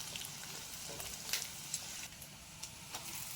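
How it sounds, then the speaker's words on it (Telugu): Cashews fry in a pan for paneer butter masala, giving a quiet, steady hiss of oil with a few light crackles and pops scattered through it, and no talk. "కొద్దిగా జీడిపప్పు, ఇలా ఒకదాని తర్వాత ఒకటి వేసుకొని బాగా ఫ్రై చేసుకోవాలి"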